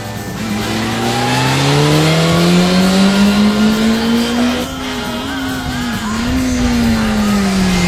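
A motorcycle engine on a track pulls hard under throttle, its loud tone rising steadily through a gear, then dipping and climbing again close by, continuous throughout.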